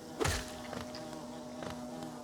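A swarm of bees from the video game Hollow Knight, a buzzing insect drone with steady tonal hum lines, moderately quiet, with a brief louder burst near the start and another at the end.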